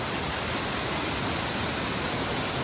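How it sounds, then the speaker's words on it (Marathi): A powerful waterfall on the Kedarnath trek roars as a dense, unbroken rush of water, loud and close, steady throughout with no pauses. "पॉवरफुल धबधबा आहे."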